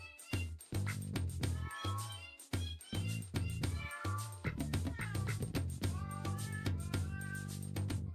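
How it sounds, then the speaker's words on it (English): Cat meow samples are used as a song's melody, with repeated pitched meows over a steady bass and beat, each meow short and bending in pitch, forming a musical line. "Now they're relying entirely on cats to make the sound."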